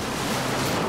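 Broad, steady wash of Pacific Ocean surf and wind off San Francisco, heard from a small boat at sea; a continuous near roar with no voices across the brief moment.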